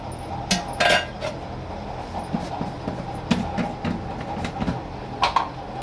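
Ginger, garlic, coriander and salt pounded into a paste in a mortar: irregular close knocks and metallic clinks, some sharper strikes standing out.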